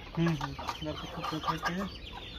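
Native desi chickens cluck repeatedly in a backyard cage, a close run of short, pitched calls with a few overlapping hen voices and light background noise.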